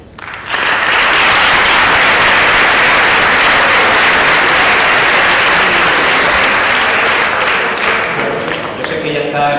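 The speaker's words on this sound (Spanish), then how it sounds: "yo me gustaría que le diéramos un aplauso" An audience gives a professor loud, sustained applause at a final debate, a thick wash of clapping that swells almost at once, holds for several seconds and thins slightly toward the end.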